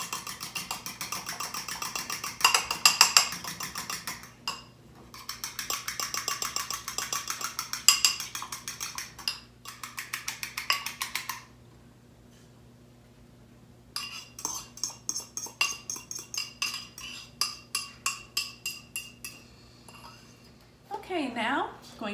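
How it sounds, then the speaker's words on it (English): Egg yolks are beaten in a bowl for a red velvet cake. Fast, rhythmic clinks of a utensil against the bowl come in several bursts with short pauses, quiet and close. "Gonna beat my egg yolks up now."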